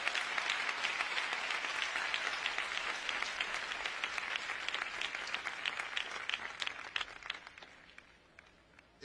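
A large audience at an Haitian presidential address applauds the first lady, Martine Moïse, with dense, sustained clapping that keeps going for several seconds before gradually thinning out.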